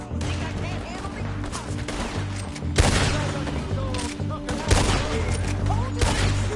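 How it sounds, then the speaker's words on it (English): Gunfire in Red Dead Redemption 2: a sustained volley of close shots with two heavier blasts standing out, layered over game ambience and a low musical drone. "Told you I could shoot a gun"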